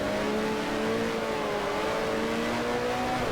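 Engines of 1974 Formula One cars in the F1 Challenge 1974 game at the Brazilian round snarl continuously as one car overtakes, loud droning tones gliding in pitch across the whole stretch.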